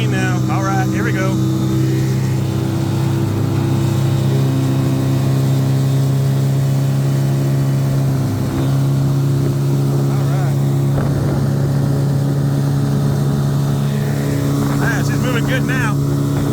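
A 15hp Ted Williams outboard motor on a 14ft aluminum boat drones steadily at high revs while planing, a loud constant engine hum with wind buffeting the microphone throughout.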